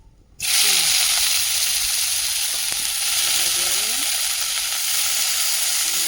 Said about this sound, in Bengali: দিয়া তেলটা একটু গরম হইলে আমি চুবুলি কড়াই দিয়া দিব।